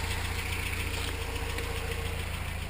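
A rebuilt 22RE engine in a 1993 Toyota pickup running at a steady idle, a continuous close drone with a low rhythmic rumble and a faint knocking texture, no voices.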